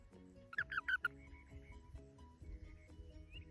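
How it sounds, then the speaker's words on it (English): A toad gives a short run of four quick, high squeaky chirps close by in a garden among plants, followed by fainter chirping over low background noise. "they were toads because they make this little squeaky noise"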